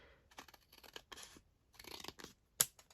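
Scissors snip through a paper envelope flap in a series of short, crisp cuts, close and fairly quiet, with brief pauses between bursts of trimming and a sharper final snip near the end.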